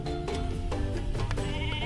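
Sheep bleat in a primitive society simulator video game, several wavering calls overlapping over a steady background, fairly close and clear with no talking.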